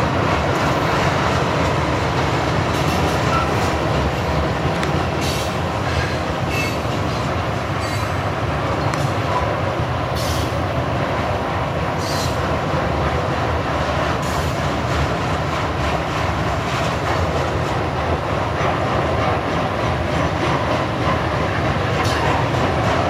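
A Union Pacific and Norfolk Southern freight train with graffiti-covered cars rumbles past steadily for a long stretch, with a continuous rolling roar and faint metallic clicks of wagons going by.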